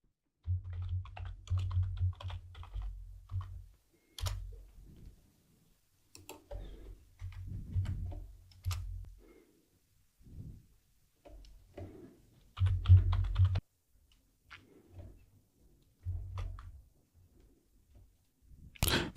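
Typing on a computer keyboard during a Linux server tutorial comes in short irregular bursts of close, soft key clicks separated by brief pauses.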